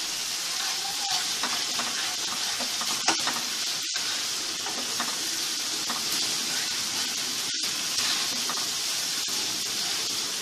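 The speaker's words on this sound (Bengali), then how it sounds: "এভাবে যখন তেলটা উপরে উঠে আসবে এভাবে নাড়তে থাকতে হবে" Masala and oil sizzle steadily in a pan while being stirred for a Tengra fish curry, a constant close hiss broken by a few sharp utensil scrapes and clicks.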